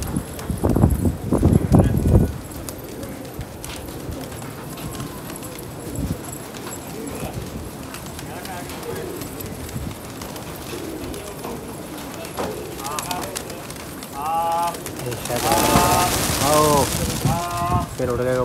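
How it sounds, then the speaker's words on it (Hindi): A flock of Gola pigeons bursts into flight with a loud flurry of wing flaps, followed by quieter fluttering, pigeon coos and voices nearby. "फिर उड़ गए कबूतर देख रहे हैं अभी।"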